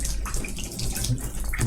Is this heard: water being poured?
yes